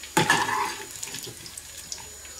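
Tap water runs into a cooking pot for bean soup with smoked pork, starting with a loud splashing gush and then settling into a steadier, quieter pour that continues to the end.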